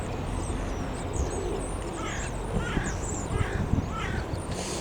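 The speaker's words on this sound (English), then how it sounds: "The birds circling over." Crows cawing as they circle overhead on an outdoor walk, several harsh calls repeating at a moderate distance over steady wind and background rumble.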